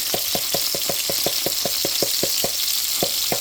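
Capers and chili flakes sizzle steadily in a hot frying pan, close up, over a backdrop of fine crackling. A regular train of soft thumps, about four per second, runs through it, and nobody speaks.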